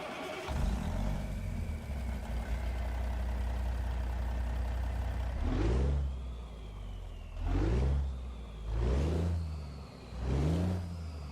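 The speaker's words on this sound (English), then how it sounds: "There you guys can really hear the turbo whistle." A straight-piped Cummins N14 Select Plus truck engine in American Truck Simulator drones at idle with a thin turbo whistle above it, then revs in four rising surges, each whistle climbing and falling with the throttle.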